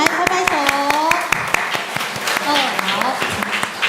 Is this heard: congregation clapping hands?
yes